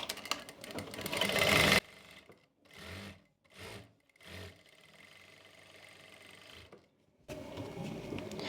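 A sewing machine stitches piping onto an Anarkali dress, running in short bursts with pauses between, the whirring motor near and moderately loud, followed by a longer continuous run.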